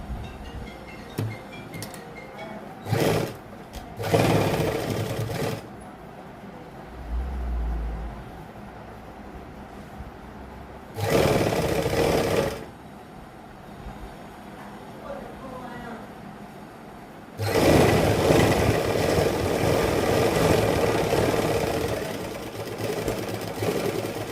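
A sewing machine stitches the edge of an elastic sleeve cuff in several separate bursts of a few seconds each, a close mechanical whir with the longest run at the end, and someone speaks between the bursts.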